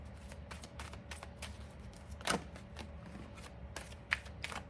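Tarot cards handled and shuffled while one card is drawn from the deck, a run of quick crisp riffling flicks and soft slaps with a couple of sharper snaps, close, no talking.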